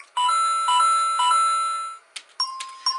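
A ringing electronic chime tone from a game show buzzer system sounds in a few repeated pulses, followed by short, sharper beeps and tones, clear and close with no talking.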